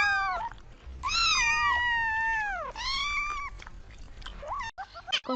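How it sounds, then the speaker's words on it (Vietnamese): A kitten meows several times in close succession, long drawn-out high cries with a pause between, loud and near, with faint low rumbling underneath and no talking. "Con mèo con."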